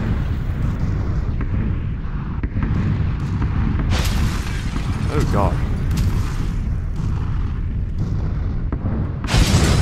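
Loud, dense rumbling booms and blasts rolling continuously in PUBG gameplay, with a person exclaiming briefly over the din.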